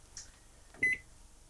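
An RV oven's control panel gives a single short electronic beep as its temperature is lowered, faint and close against near silence.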